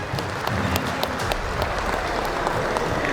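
Loud, dense applause from an audience at a cultural program of the Indian Railway goods shed workers' union convention in Odisha, steady clapping filling the whole stretch with a faint murmur of the crowd beneath.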